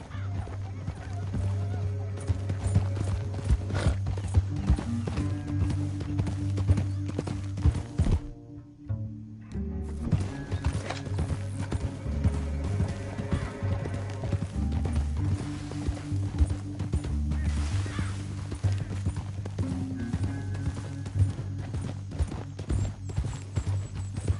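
Hooves pound in a rapid, steady gallop under a dense wash of music and game noise in Red Dead Redemption 2, with a horse whinnying and brief voices mixed in.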